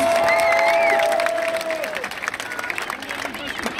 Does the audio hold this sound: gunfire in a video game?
no